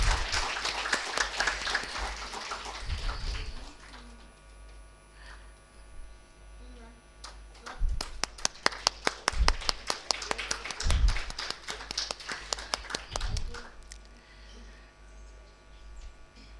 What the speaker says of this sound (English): A little more loud applause, please.